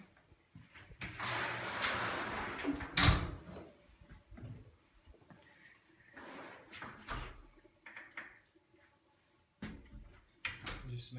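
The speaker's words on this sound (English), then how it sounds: "Just smashed my finger in the door." A heavy door in an Earthship house swings and bangs shut with a loud thud, followed by scattered shuffling, knocks and room noise nearby.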